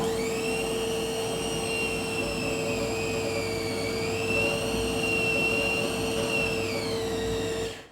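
A food mixer running steadily as bologna meat gets its initial mix, a loud continuous whirring motor drone with a rising and falling whine and faint churning, stopping at the very end with no talking.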